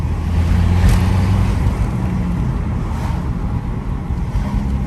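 A tuned stage 2 BMW 120d diesel car accelerates, a deep, steady engine drone with road and wind rumble heard from inside the cabin, loud and continuous without speech.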